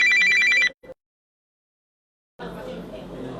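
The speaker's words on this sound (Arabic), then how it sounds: "اسف جدا التليفون رن" A telephone ringtone sounds loudly and close for under a second, then cuts off into silence before a voice begins speaking.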